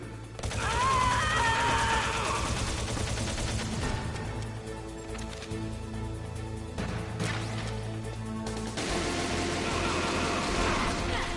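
Gunfire in Metal Gear Solid comes in loud, dense bursts at the start and again near the end, with quieter mechanical game sounds in between.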